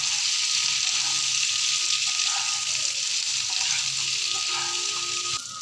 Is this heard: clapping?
no